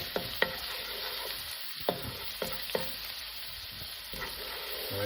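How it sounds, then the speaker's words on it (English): Ginger sizzles and fries in a pan for bison spaghetti, a constant hiss broken by several sharp clicks and scrapes of stirring utensils against the pan. "I'm going to be putting in the ginger as well, and then I'm just going to cook this for a little bit."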